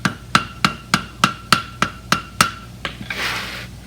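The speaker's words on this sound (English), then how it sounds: "I'm bending it up as I'm hitting with the heel of my hammer." Hammer striking a steel Saddlebred horseshoe to bend up a jump-welded toe clip, about ten sharp ringing metallic blows in an even rhythm, close and loud, ending in a brief scraping rush.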